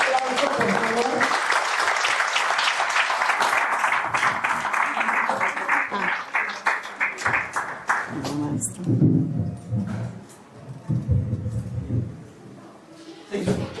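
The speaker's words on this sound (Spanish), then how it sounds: "Un aplauso, por favor." Audience applause at a spiritual teaching talk, full and steady clapping for several seconds that gradually thins out, followed by a voice beginning to speak as the last claps fade.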